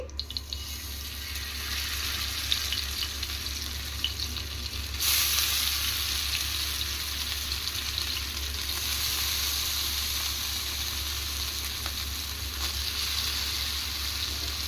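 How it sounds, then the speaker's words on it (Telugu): Fish pieces fry in about two tablespoons of oil on a tawa, beach-side Nellore style, giving a steady, fairly loud hiss of sizzling oil that runs unbroken throughout, with no talking. "ఆయిల్ వేసుకొని 2 టేబుల్ స్పూన్ ఇందులో ఒకటొకటిగా చేప వదులుకోవాలండి"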